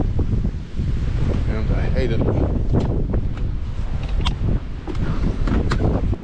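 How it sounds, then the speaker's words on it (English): Strong wind gusts buffet the microphone outdoors beside a Jeep WK2, a loud, rough, continuous roar that swells and dips throughout, while a person speaks briefly underneath. "it's very windy"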